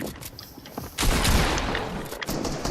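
SMG bursts rattle in an online shooter game during a team live stream, a quiet stretch giving way to a loud, sustained volley of rapid fire with dense crackling.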